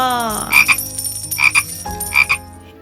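A frog croaks loudly and close by, three rough, rasping calls in a steady rhythm with short pauses between them.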